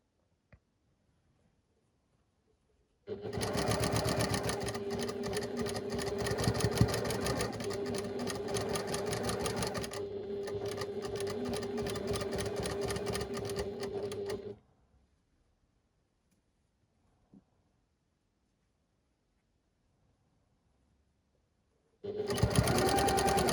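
A sewing machine stitches a quilt block in one long, steady run of rapid whirring, close and loud, stops for several quiet seconds, then starts up again at the end.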